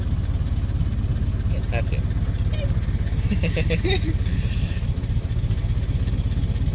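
A Ford Model T engine runs steadily close by with a low, rapid pulsing idle while a learner driver is at the controls; people talk briefly over it.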